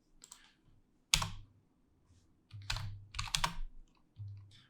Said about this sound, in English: just type in whatever you want